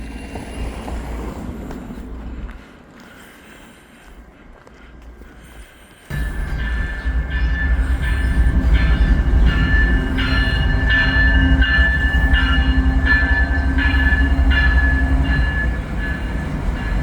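CN freight train passing a level crossing in winter in St Henri near St Ambroise: quiet rumble at first, then a loud, close, steady roar of rolling cars with rhythmic wheel clatter that continues to the end, with no voices.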